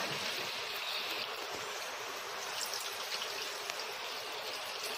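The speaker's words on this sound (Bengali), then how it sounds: "তো এখন এর মধ্যে আমি এখন জল দেব।" Water pours steadily into a pot of tortoise meat curry that has been fried with salt and turmeric, a continuous close rushing stream with no talk over it.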